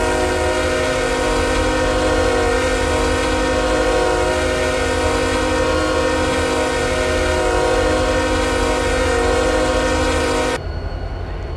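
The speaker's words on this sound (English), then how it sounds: "all of the train horns of the Canadian Pacifics and Canadian National" Canadian Pacific and Canadian National diesel freight locomotive horns in a Roblox RO-Scale Sandbox train game sound as a loud, sustained multi-chime chord, held steadily for about ten seconds before abruptly dropping to a quieter rumble.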